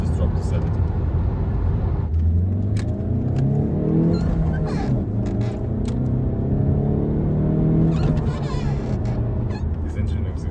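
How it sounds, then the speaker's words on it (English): Alfa Romeo 147 engine on a UK road trip, a steady low engine drone and road rumble heard from inside the car, with a person talking over it for most of the stretch. "This engine makes a good noise."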